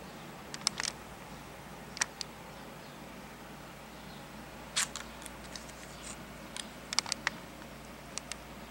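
Screws on a magnetic screw chart mat being turned over and shaken, faint scattered small clicks and ticks in short clusters over a quiet background.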